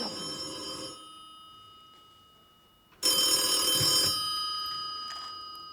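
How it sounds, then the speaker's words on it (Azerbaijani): A telephone bell rings loudly in two bursts about two seconds apart, each lasting roughly a second, followed by a fainter trailing ring in an otherwise quiet room. "Az o telefonu götür da"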